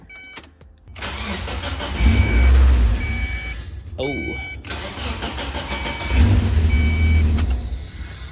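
Mazda Miata engine cranking and catching, then running at idle and revving up twice in loud surges, with a short break in the middle; a voice speaks briefly over it.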